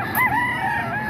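A hatch gray gamecock, around ten months old, crows once in a long, rising and falling call that fills the whole stretch, close and loud, with no talk over it.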